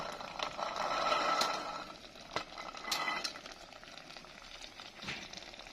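Chickpeas (chana) frying in hot spiced oil in a pan: a steady, soft sizzle with occasional sharp scrapes and clicks of stirring, quiet and close, with no talking.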